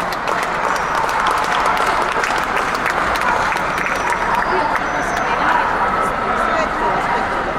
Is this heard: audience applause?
yes